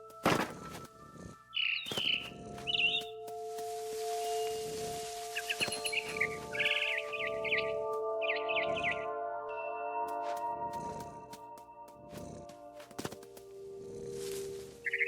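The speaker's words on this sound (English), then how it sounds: "Then I heard chirping outside my window. It was a barn swallow going back to her nest." A barn swallow chirps outside a window in the video game What Remains of Edith Finch, short bright tweets in scattered bursts over sustained background music tones.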